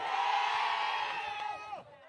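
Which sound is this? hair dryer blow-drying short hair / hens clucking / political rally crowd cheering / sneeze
political rally crowd cheering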